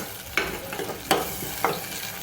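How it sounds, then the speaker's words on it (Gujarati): Green chili being roasted with salt in a pan for a stuffed drumstick curry, giving short scraping stir sounds over a soft steady sizzle, three distinct strokes close by. "હવે આપણું મરચું પણ શેકાઈ જાય, એકદમ થઈ જાય સરસ."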